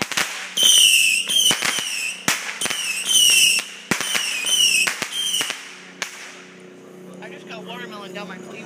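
Loud fireworks with sparklers: a rapid series of sharp cracks and bangs over a sizzling hiss, then a fading crackle. People talk in the background.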